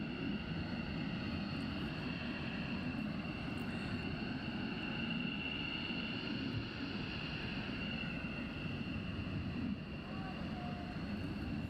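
A military jet at RAF Lakenheath, likely carrying fuel tanks, roars in a loud continuous wash that holds steady throughout, with faint voices underneath.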